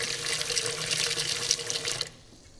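Tap water runs steadily into a rice cooker bowl holding 2 cups of washed rice, filling it to the marked line; the close, continuous hiss of the stream cuts off abruptly near the end.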